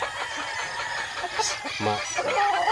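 A Boston broodstag gamefowl rooster gives a few short clucks at close range, with faint background noise around it.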